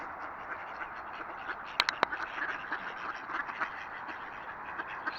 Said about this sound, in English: Say goodbye to the duckies.